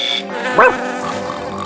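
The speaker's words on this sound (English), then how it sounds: "John accidentally got programmed with the sound of Odie barking" A single short cartoon dog bark rings out over a steady tonal background hum, brief and fairly close.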